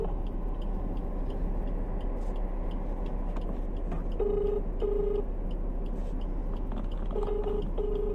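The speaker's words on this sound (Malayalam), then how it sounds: "ഒന്ന് കോൾ ചെയ്ത് നോക്കാൻ പറ്റും." Inside a car, a mobile phone call is placed and rings out: a steady repeating two-pulse ringback tone over the low engine and road hum, with no speech.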